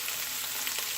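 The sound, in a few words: sauteing onions in a Ninja cooker on high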